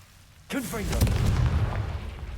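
A Confringo blasting curse in a Harry Potter video game fires with a sudden whooshing launch and bursts into a loud, rumbling explosion that rolls on and slowly fades.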